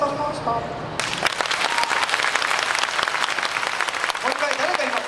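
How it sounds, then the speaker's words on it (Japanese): A live audience at a local idol competition final in Shiodome breaks into steady, loud clapping after a brief bit of talk, with no cheering voices. "拍手だけですよ。"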